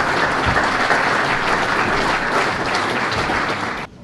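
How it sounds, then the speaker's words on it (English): Applause from an audience at a sports development panel event, dense and steady clapping from a full room that carries on for about four seconds and then cuts off sharply. "So a round of applause for all four, please."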